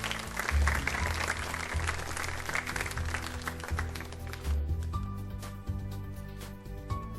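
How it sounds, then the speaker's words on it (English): A round of applause for a school team from Surat, J.H. Ambani Saraswati Vidya Mandir, receiving prizes at a national semi-final, with steady clapping over a low rumbling background and a faint tone near the end. "Can we have a round of applause for them?"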